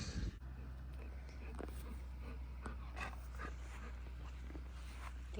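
A puppy and a golden retriever play tug of war indoors, with faint dog whimpers, panting and small growly noises over a low steady hum, while a person talks quietly.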